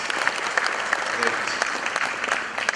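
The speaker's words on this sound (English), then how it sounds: "we should give him a round of applause" An audience gives a round of applause welcoming Javadekar, a new minister, at a business gathering. Steady, fairly dense clapping carries evenly through the short stretch.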